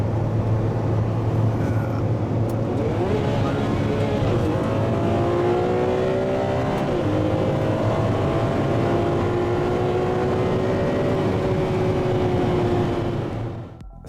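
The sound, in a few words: Porsche 911 GT2 race car driving fast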